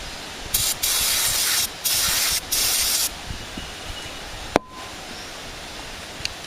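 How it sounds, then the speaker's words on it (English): Carb cleaner sprayed onto a riding mower part: three close, loud hissing bursts of aerosol, separated by short pauses, followed by a single sharp click and quieter background. "I gotta clean it off a carb cleaner."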